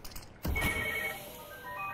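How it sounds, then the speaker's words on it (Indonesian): A phone ringtone chirps faintly in the background during commentary on a Counter-Strike: Global Offensive match, with thin electronic tones starting after a short thump and continuing quietly with no voices. "Aduh, ada telepon."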